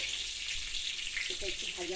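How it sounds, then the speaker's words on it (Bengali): Whole cumin seeds and dried red chillies sizzle steadily in hot oil for a spiced greens dish, a bright continuous crackle with a few faint pops near the end. "এখানে আমি গোটা জিরেটাই ফোড়ন দিচ্ছি, তার সাথে দেব শুকনো লঙ্কা, একটু ফাটিয়ে দেবো"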